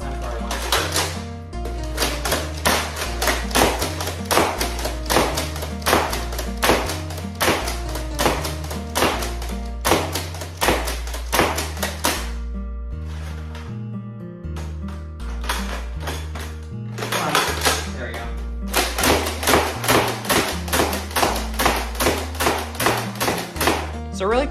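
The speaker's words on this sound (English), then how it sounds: "I'm gonna be doing 12 shots of single shot and then 12 with slam fire to demonstrate how to slam fire works." A Dart Zone Dictator foam blaster cycles through about two dozen shots, a steady train of sharp plastic snaps and thunks over a low mechanical thump, first at a measured single-shot pace and then faster in slam-fire bursts after a short pause.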